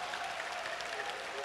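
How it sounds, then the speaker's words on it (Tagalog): Church congregation clapping in applause during a Filipino evening worship service, a steady dense patter of many hands sustained throughout without pause. "Palapakan natin si Lord."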